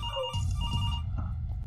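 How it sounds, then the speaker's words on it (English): A telephone rings in the horror video game Infliction, a sustained electronic ring over low, rumbling ambient drone, with no voices. "Shit, that's the phone."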